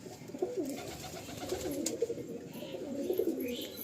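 Pigeons of the Kalanka breed coo softly in a breeding loft where pairs are settled, with repeated low throaty coos at close range.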